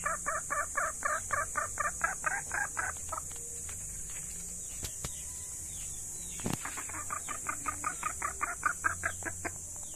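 Captured labuyo wild junglefowl call in rapid repeated bursts of clucking squawks, loud and close, pausing midway then resuming, over a steady high hiss with a faint flutter of wings.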